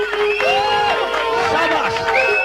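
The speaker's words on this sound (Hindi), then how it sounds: "मेरे लिए ताली हो जाए।" Audience at a mall game show claps and cheers briefly, a burst of crowd noise with hands and voices mixing closely together, fairly loud throughout.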